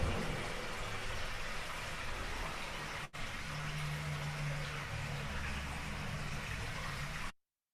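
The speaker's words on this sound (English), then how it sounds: "You hear the water running, and hopefully you can hear it more into some occasional pumping" Steady rushing of water flowing through an underground drainage system, a continuous broadband wash with low rumbling undertones, one brief dropout, no talk.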